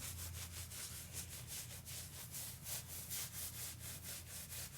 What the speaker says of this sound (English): This is the zen moment of shaving, is applying shaving cream to your face.